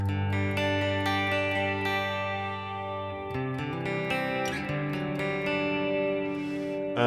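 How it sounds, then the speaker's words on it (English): Electric guitar played through a Headrush effects unit with the 11 verb reverb on its Cathedral setting, sustained chords ringing into a long, wash-like tail, loud and continuous with no talking. "That reverb there is the 11 verb, and I have it on Cathedral."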